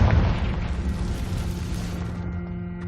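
A Confringo explosive spell detonates in Hogwarts Legacy, a single heavy, deep boom that rumbles and slowly fades away.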